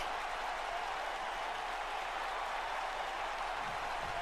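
An arena crowd in the WWE 2K19 wrestling video game cheers and applauds at a Survivor Series pay-per-view match, a dense, steady roar with no commentary over it.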